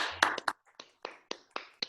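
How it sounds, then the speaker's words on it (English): Online meeting participants clap in scattered bursts, a string of separate short claps arriving one after another, fairly faint and a little tinny with uneven gaps. "You can unmute and give a big round of applause for them."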